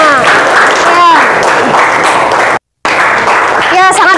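Classroom applause from a group of students, a steady wash of clapping over several seconds, briefly cut off by a short gap before resuming, with a few voices audible in the mix.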